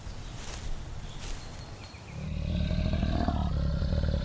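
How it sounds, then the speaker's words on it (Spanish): Lion, one of the Mapogo males, growling at night in the wild: a deep, rumbling roar builds midway and holds steadily loud to the end, with faint rustling and footsteps before it. "Un gruñido resonó en la noche"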